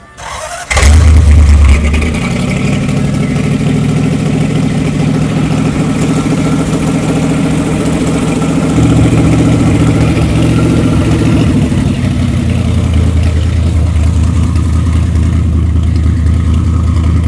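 A 1931 Ford Model A with a flathead V8 cranks over and catches, then settles into a steady, loud, close-by idle with a deep, uneven burble that shifts slightly partway through.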